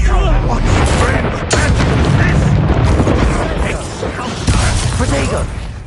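Confringo fire spell blasting in Hogwarts Legacy on PS5, a loud booming explosive roar that fills the whole stretch with crackling mechanical battle noise, with in-game voices shouting over it.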